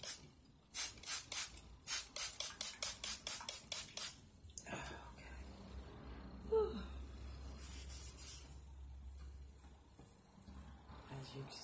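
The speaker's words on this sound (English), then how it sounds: "I'm putting on my spray bottle so I can spray this" A spray bottle hisses in a quick series of about a dozen rhythmic spritzes onto hair, close up, followed by soft rustling and quiet speech.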